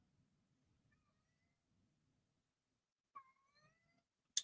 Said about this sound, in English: My cat agrees.